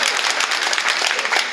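A church congregation claps in a short, dense burst of applause at a Sunday service, steady and fairly close, with no talk over it.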